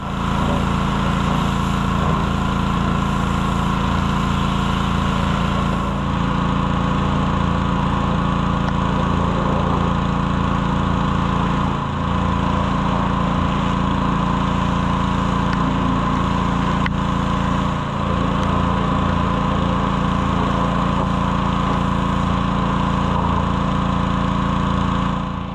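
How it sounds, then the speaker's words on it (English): A gas-powered pressure washer runs while cleaning a neglected Cockshutt 550 tractor. Its engine gives a loud, continuous drone with a few brief dips in pitch. "So anyway, power washer time. We're gonna shine her up and see what we got."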